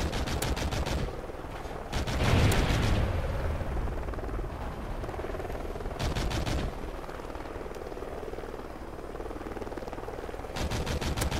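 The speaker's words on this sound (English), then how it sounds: "Friendly helo pilot active." A helicopter in Call of Duty Ghosts churns with a steady rotor drone, punctuated by bursts of rapid machine-gun fire, loud and close with no talking.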